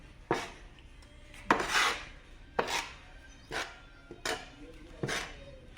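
Cement paste being mixed with water by hand for a standard consistency test, with six separate scraping, rasping strokes spaced about a second apart, close up and moderately loud, with no talk.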